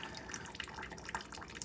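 Cold water trickles slowly into a container where meat soaks, producing faint irregular drips and a soft continuous liquid patter, quiet and close.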